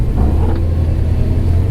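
The LS-swapped 1973 Chevy Nova's engine runs smoothly on the road, a steady, deep, close rumble with no other sounds.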